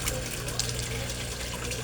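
Water moving in a home koi fish pond, a steady, continuous wash of trickling and splashing, fairly close and alone with no talk.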